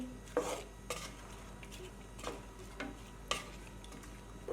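A spoon stirs ground coriander, turmeric and salt into raw beef in a pot for biryani, making several distinct scraping clinks and knocks at an uneven pace over a quiet background, close by with no talking.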